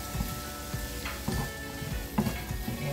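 Carrots and potatoes sizzle steadily in a hot frying pan while a utensil stirs them, scraping in a few distinct strokes close up, with no talking.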